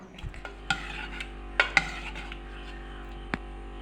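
Cooked beetroot and potato curry stirred in a pot, a spoon making a few scattered scrapes and clinks against the metal over a faint background hum.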